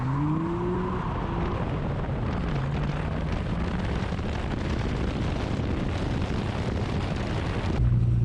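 Tyres on an R32 Nissan Skyline GTR spin hard at a drag-strip launch, a loud continuous roar of engine and screeching rubber held around 5,000 rpm before it cuts off near the end.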